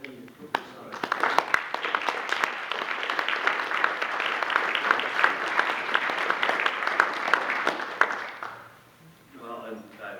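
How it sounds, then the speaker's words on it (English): Applause for volunteers at a city council meeting, a roomful of hands clapping steadily and fairly loud for several seconds before tapering off, with a voice speaking briefly at the end. "I'd like to give a nice round of applause for all the volunteers and everybody that does everything to put this on."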